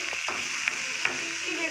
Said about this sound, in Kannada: ಈಗ ಇದನ್ನು ಮಿಕ್ಸ್ ಮಾಡ್ಕೋತಾ ಇದ್ದೀವಿ.